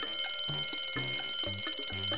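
A bright electronic alarm ringing in repeated short bursts, steady and loud, with a rhythmic beeping pattern and no talking.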